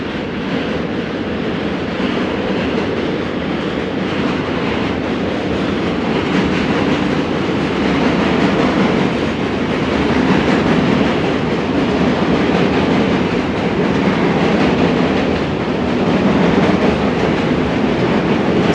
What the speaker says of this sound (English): You hear the subway going over the Manhattan Bridge right there.